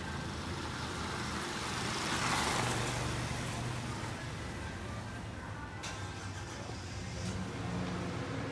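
Steady street traffic in the town of Ixtlahuacan, Mexico: a continuous wash of passing cars and trucks, with one vehicle swelling louder midway and then fading back into the constant roadside rumble.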